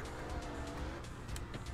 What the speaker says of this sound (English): drive correctly, you dumb car